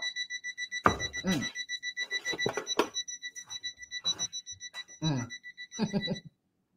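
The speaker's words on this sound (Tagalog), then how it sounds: "Hindi ko alam na may alarm pala dito." An alarm clock rings in a steady, piercing electronic beep that repeats without a break until it cuts off near the end, while a person talks intermittently over it.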